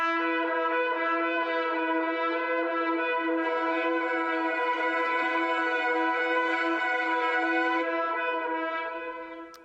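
A sampled brass-like instrument holds a single sustained, reedy tone rich in overtones for nearly ten seconds, with a second layer swelling in midway before the sound fades at the end; dark doom jazz texture.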